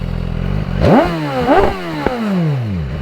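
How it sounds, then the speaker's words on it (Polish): A 2019 BMW S1000XR four-cylinder motorcycle engine revved in several quick blips, each rising sharply in pitch then falling back toward idle, loud and close. "Jak to się leciutko wkręca na obroty, coś pięknego"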